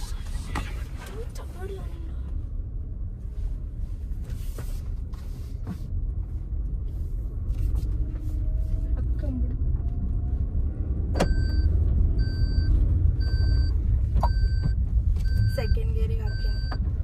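A manual car pulls away with its engine running, a steady low rumble that swells slightly as it moves off, with a beeping chime near the end and people talking throughout.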